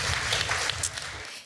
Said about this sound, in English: Everyone, round of applause for that.